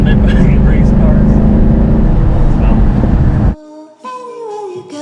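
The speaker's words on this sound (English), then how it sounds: "I'm surrounded by race cars." Race car engines rumble loudly and continuously at a cold start rally, a dense low roar for several seconds before cutting abruptly to music.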